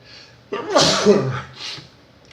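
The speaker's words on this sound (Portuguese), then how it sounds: "Aí vou espirrar." A single loud sneeze with a sharp inhale and burst, then a short breathy trailing sound, close up.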